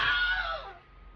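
A synthetic scream effect from a Rivian vehicle's 2024 Halloween update, a single short shrill cry that slides downward and fades within about a second, fairly loud inside the cabin with no talk over it.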